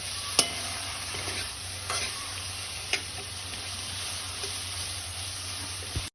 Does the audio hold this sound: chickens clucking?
no